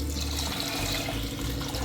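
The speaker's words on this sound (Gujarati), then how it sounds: "હવે આપણે પાણી નાખીએ" Water poured into a pot of twice-washed lentils for cooking, a steady continuous splashing gush lasting throughout, close and fairly loud with no voices.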